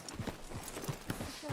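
Horse hooves clip-clop in Red Dead Redemption 2, a steady uneven patter of hoofbeats on ground near a sheriff's office, close and fairly loud.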